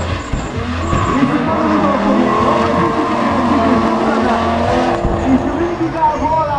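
Drift cars at a drift competition in Máriapócs roar with revving engines and squealing, skidding tyres, loud and sustained, while a commentator talks over them throughout.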